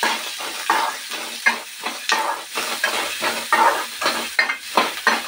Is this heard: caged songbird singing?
no